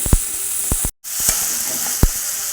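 Food frying in a pan in a home kitchen, a loud close sizzle broken by several sharp spoon scrapes and clacks against the pan, with one brief dropout near the middle.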